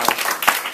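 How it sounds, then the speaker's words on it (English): Audience applause after a college debate on climate change, heard as a brief, dense burst of claps in a hall, fairly loud, with a few sharper hand strikes standing out. "Let's give them a big round of applause"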